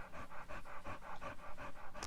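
A pet dog pants rapidly and steadily, stressed during a thunderstorm with rain easing indoors; about ten quick rhythmic breaths, close and fairly loud, with no talking.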